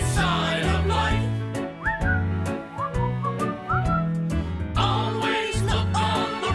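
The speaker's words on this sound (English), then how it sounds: "just purse your lips and whistle, that's the thing" Whistling carries the melody of a song, played for a dance game, over a loud, bouncy band backing with bass and percussion, the whistled phrases sliding up and down in short runs.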